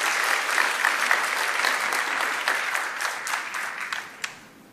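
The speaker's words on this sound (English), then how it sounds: "please join me in welcoming Ms. Jane Sun with a warm round of applause" Applause at a leadership summit as the audience welcomes speaker Ms. Jane Sun: dense, steady clapping from a crowd that holds for a few seconds, then thins out and tapers away near the end.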